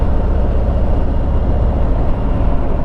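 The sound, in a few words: Harley-Davidson 2019 Street Glide Special motorcycle riding on road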